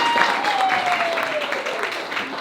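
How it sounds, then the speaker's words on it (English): An audience at a panel event gives a round of applause, heard as a dense, fairly loud wash of clapping that is steady throughout, with a faint tone gliding down beneath it. "can we give them a quick round of applause?"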